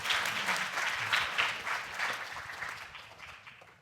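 Audience applause fills a conference room as speakers are welcomed to the stage, a steady dense clapping from a moderate crowd that gradually fades out.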